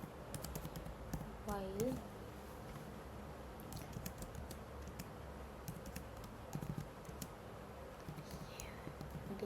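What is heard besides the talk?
typing code on a computer keyboard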